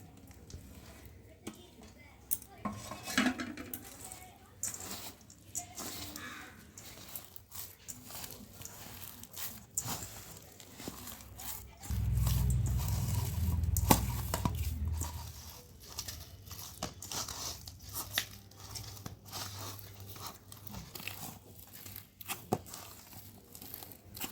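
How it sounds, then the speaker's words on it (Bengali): Palm pulp, grated coconut and sugar are worked into a dough by hand in a bowl for palm fritters, producing soft squelching, crinkling and patting sounds in irregular bursts, with a brief heavier thumping stretch midway. "তালের মাড়িটা দিয়ে ভালো করে মাখিয়ে নেবো।"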